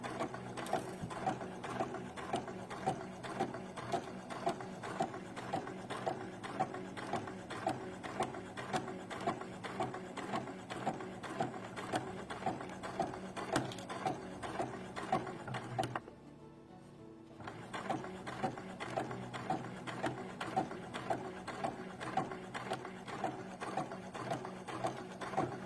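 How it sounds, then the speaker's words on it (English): A sewing machine fitted with a zipper foot stitches a bias strip onto fabric for a Regency overdress. It runs with a rapid, steady mechanical rattle and clatter, stops briefly partway through, then starts again at the same pace. "The bias strip is sewn to the fabric using the zipper foot"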